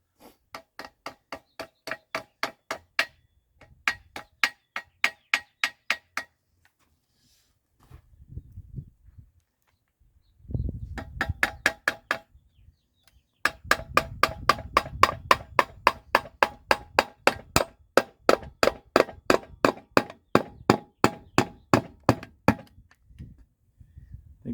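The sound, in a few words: hammering on a car part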